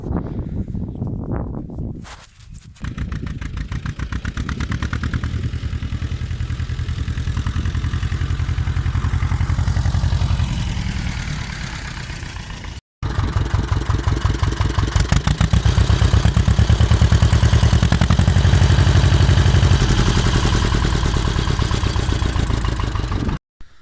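An Ursus C330 tractor's engine runs while driving, a loud close chugging diesel with a steady mechanical clatter, dropping out briefly partway through before resuming just as strong.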